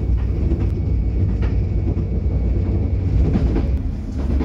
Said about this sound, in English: we're taking a train through Suffolk